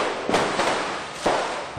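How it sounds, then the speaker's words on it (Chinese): Firecrackers exploding inside a burning sheet-metal warehouse storing parade floats, a few loud sharp bangs over a continuous roar of the fire. "还不断传出爆炸声响，爆竹声哔哔啵啵"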